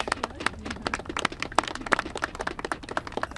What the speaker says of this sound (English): Let's give them a round of applause for their courage